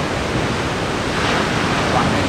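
Ocean waves breaking at a surf beach, a broad continuous roar of rushing water and surf close by, steady and loud throughout with no talk heard.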